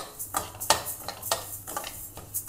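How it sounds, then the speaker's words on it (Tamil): Split moong dal dry-roasting in a pan, stirred with a spoon: a steady run of close scraping, rattling strokes repeating every half second or so, with no voices. "அதுக்கு நம்ம இந்த பாசிப்பருப்பை நல்லா செவக்க வறுத்துக்கலாம்."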